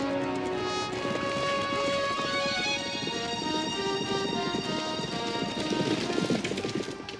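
Horses in a horse race gallop in a dense, continuous patter of hoofbeats amid crowd noise, fairly loud throughout and swelling toward the end.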